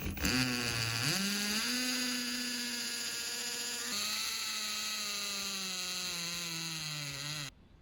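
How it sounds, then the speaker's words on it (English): A power drill whines steadily at high speed for several seconds while drilling pocket holes in a wood piece, its pitch dipping briefly near the start, then stops abruptly. "we're going to go ahead and put 2 pocket holes in this piece"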